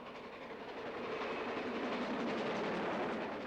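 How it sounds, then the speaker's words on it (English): GWR Castle-class steam locomotive Pendennis Castle climbing the old Great Western main line through outer London suburbs, heard as a steady, loud rolling rumble and clatter of the train passing, with no voices. "This is the last run of the famous Pendennis Castle, climbing through the outer London suburbs on the old Great Western main line to Birmingham."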